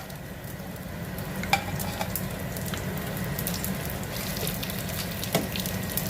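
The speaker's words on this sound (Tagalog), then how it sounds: "Okay guys, sugod na ito prito." Dried boneless danggit fish frying in hot oil, a steady dense sizzle with occasional louder pops and crackles, continuous and close with no talking.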